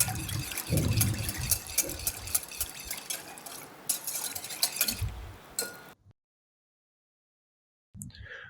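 A spoon works through liquid cake batter in a bowl, with a steady clinking and swishing that rises and falls for several seconds. The stirring stops abruptly, silence follows, and then a brief clink returns.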